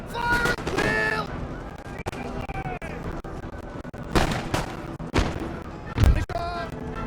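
Colonial militia muskets fire at will in a Total War Empire battle: loud, ragged cracks and heavy booms burst repeatedly over a dense battlefield din, with shouted voices mixed in.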